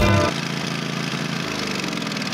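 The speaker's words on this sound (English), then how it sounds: "lawnmower is having issues when it goes over too much grass" A lawn mower engine runs steadily during a test ride, a sick-sounding mower that struggles over thick grass, droning at a constant mid-pitched idle after a brief louder burst at the start.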